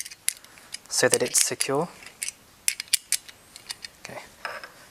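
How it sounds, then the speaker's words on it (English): A few sharp metallic clicks and taps from a spanner tightening a nut on a billet actuator part, sparse and close, following a short stretch of speech. "we're just going to give it a few turns with the spanner"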